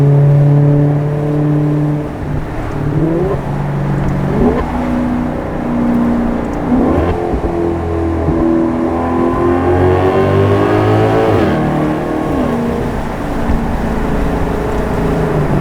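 A Maserati GranTurismo's engine revs while driving, loud and close, rising and falling in pitch through repeated gear changes over a continuous road drone.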